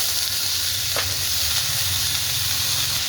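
Green hyacinth beans (ghevda) frying with chillies in a pan, a steady close hissing sizzle with a low bubbling undertone and one brief sharp sweep near the start, no talk.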